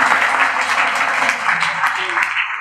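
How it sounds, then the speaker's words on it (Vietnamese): An audience at a cryptocurrency trading talk event applauds in a dense, continuous wash of clapping, with a voice speaking over it throughout. "Mọi người xin cho một tràng pháo tay được không"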